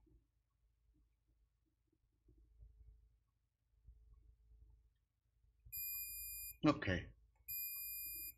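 A multimeter's continuity buzzer beeps as its red and black probes touch during a laptop power-button repair: two steady, shrill tones, each about a second long, with a short burst of speech between them over a quiet background.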